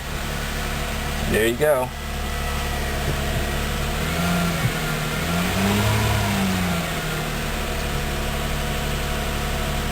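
A Toyota Camry engine that had been showing a check engine light, just started, then running at a steady, somewhat raised idle with a faint rise in revs, while a person speaks briefly near the start.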